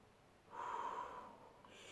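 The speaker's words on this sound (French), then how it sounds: "Et une troisième respiration." A single slow, deep breath drawn during a relaxation exercise, a soft close airy rush that swells after a quiet start and tapers gently as it is released.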